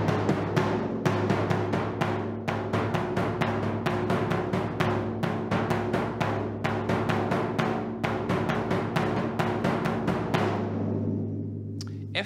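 A Lambeg drum beaten in a driving pattern of quavers and triplets, dense sharp stick strikes over a deep booming resonance, loud and close for about ten seconds before the rhythm stops and the drone fades.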